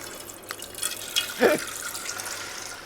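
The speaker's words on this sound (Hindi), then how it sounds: "फिर से हाथ धो रहा हूँ।" Water from a tap trickles and splashes while hands are washed, with a few soft drips and a brief louder splash, faint and close.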